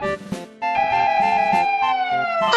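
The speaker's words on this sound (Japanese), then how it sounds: "Road patrol car." A police patrol car siren wails loudly and steadily, sounding alone throughout after a brief quieter start, with strong harmonic tones holding close and continuous.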